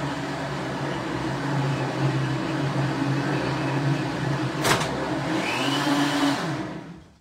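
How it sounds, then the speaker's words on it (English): An expensive countertop blender runs at a steady drone, loud and close, with a brief sharp click partway through. The whirring then winds down and stops. "this is a good blender, this is an expensive blender that I have to hold down on it"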